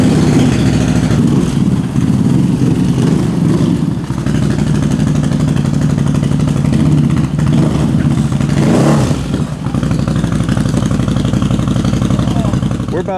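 A CFMOTO CFORCE ATV fitted with a race kit engine runs loudly and close, with a steady throbbing drone that swells slightly mid-way while someone talks over it.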